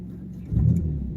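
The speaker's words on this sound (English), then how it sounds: "I mean, it seems to be idling fine." A 1997 Ford Ranger XLT engine idles steadily at close range, with a brief rise in engine note partway through and no talk over it.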